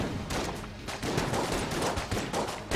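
Rapid bursts of gunfire from the Enter the Gungeon video game, dense overlapping shots firing continuously in a fast, busy stream at steady loudness with no pauses.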